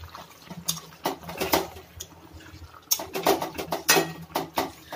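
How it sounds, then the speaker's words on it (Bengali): A spoon scrapes and clatters around a pan of cauliflower and cabbage curry in repeated bursts of stirring, close and fairly loud, with soft wet patter between strokes. "এবার আমি আরেকটু এটাকে নাড়িয়ে নিচ্ছি"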